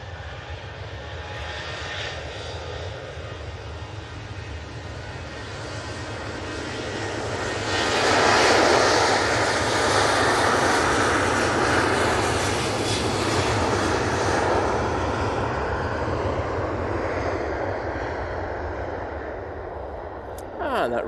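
A Ryanair airliner at Manchester Airport roars past, its jet engine rumble building from a distant steady drone to a loud swelling peak midway and then easing off slowly.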